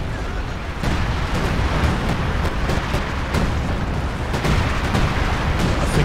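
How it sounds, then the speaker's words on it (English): Heavy mortar and artillery fire in Company of Heroes 2, rolling as a dense, continuous rumble broken by repeated sharp booms and shell bursts that keep landing without pause. "Got some assault artillery out the back here on the double heavy mortars."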